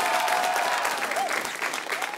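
A crowd applauds steadily throughout at a school quiz competition, a dense wash of clapping with a few faint voices and cheers mixed in.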